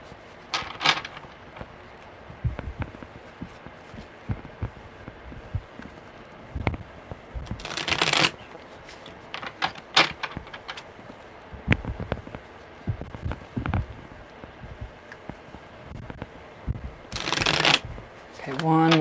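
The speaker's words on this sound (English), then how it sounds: "Okay, one more good shuffle." Tarot cards being shuffled by hand, close and quiet, in repeated riffling bursts with a few louder sharp riffles and soft card handling between them.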